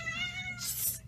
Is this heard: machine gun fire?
no